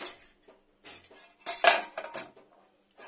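A lid is set gently over a pot of freshly cooked dal with ghee, giving a few soft metallic clinks and knocks spread across a few seconds in a quiet kitchen.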